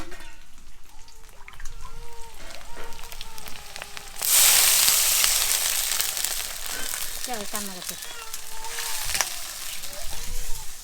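Food sizzles and fries in a pan during home cooking, a dense crackling hiss that swells loud partway through and continues steadily, with voices talking over it at times.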